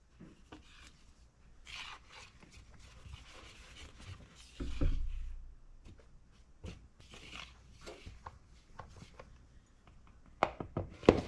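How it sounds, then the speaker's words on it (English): Dry ingredients with sugar are whisked in a bowl for no-yeast bread from scratch, heard as soft, close scraping and tapping bursts that come unevenly, with a louder clunk midway and sharper knocks near the end. "Now we're going to whisk that together."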